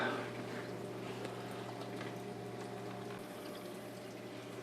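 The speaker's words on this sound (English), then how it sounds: "we're just finishing up siphoning water out of the overflow" Water is siphoned out of an aquarium overflow during work on a cylinder tank, giving a steady, faint gurgling and rushing flow with a constant hum underneath.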